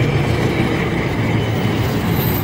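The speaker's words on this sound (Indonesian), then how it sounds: "Ada kereta api." A train passes close by a former airport site in Yogyakarta, a steady low roar with rhythmic clatter of wheels on rails throughout.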